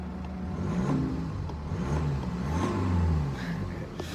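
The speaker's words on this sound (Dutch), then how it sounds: "ik ga niet te veel reffen, want het is niet goed voor een motor" Parked car's engine revved gently a few times, a mid-pitched rising and falling engine whir heard from inside the cabin, moderately loud with no talk.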